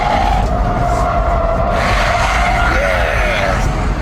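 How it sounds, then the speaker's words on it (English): Tyres of an Audi 3.0 TDI squeal in a sustained skid during an oversteer, a loud tonal screech over heavy engine and road rumble, close to the car. "let's see if we can get a good oversteer here"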